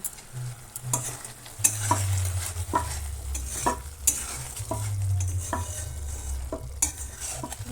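Dhania chicken cooks in a pan with a low simmering sizzle, punctuated by sharp clinks and scrapes of a spoon stirring every second or so, close and alone without talk.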